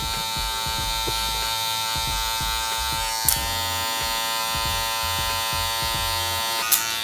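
Electric hair clippers buzz steadily and close-up while cutting a low taper haircut, blending with a 1.5 guard, a continuous hum with brief rhythmic dips and two short sharp clicks.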